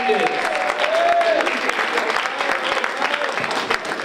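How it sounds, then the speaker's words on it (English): At a women of color entrepreneur conference, the audience gives the mayor of Milpitas a round of applause: a dense, continuous burst of clapping that starts under a brief voice. "Let's give a round of applause for the mayor of the city of Milpitas"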